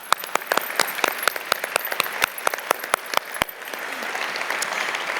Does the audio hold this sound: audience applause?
yes